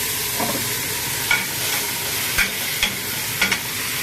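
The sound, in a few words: stirring beef stew in a pot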